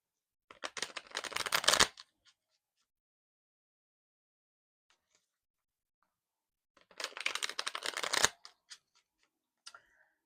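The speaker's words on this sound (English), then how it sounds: "Let's give these cards a shuffle." Two bursts of tarot card shuffling, each a dense riffling flutter lasting about a second, separated by a long silent pause, with a few faint taps afterward.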